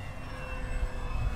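An FMS Diamond Hobby F3A Explorer RC airplane flies overhead, its steady electric drone fairly faint against a low rumble of wind and ground noise, with no talking.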